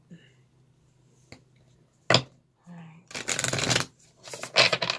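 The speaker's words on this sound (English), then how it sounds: "we're gonna shuffle a few more just because it feels a little sticky" Tarot cards are shuffled by hand in quick riffling bursts, loud and close, with a few separate flicks and taps between the bursts and a quiet voice briefly audible.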